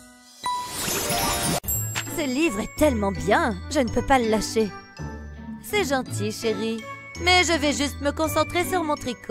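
A phone notification jingle chimes briefly in a quiet room, a bright tinkling burst at the start before a woman and another person talk over the rest.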